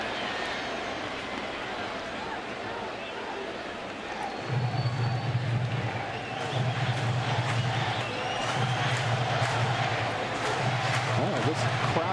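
Baseball stadium crowd at a Phillies–Mets game, a broad steady roar of many voices that swells midway and holds loud, with a low rumble underneath.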